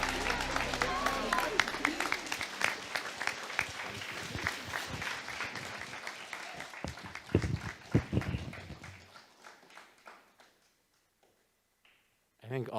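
Audience applauding at a graduation ceremony, a dense clapping crowd that carries loudly for several seconds, then thins and fades to near silence before a voice returns at the very end.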